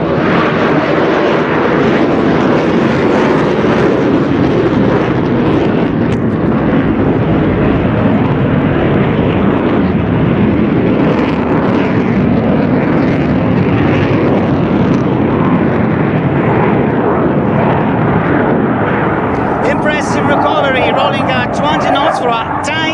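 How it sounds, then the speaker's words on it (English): An aircraft makes a slow, low flypast over the airstrip at the Ostrava NATO Days air show, its engine a loud continuous roar throughout, with a commentator's voice running over it. "He's going to treat us to a slow fly pass above the active, overflowing airstrip of Ostrava"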